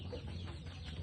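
Chickens clucking around a house yard, a soft, low cluster of clucks heard close by without any talk.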